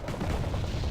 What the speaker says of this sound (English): Oh, and he fired off the whole salvo.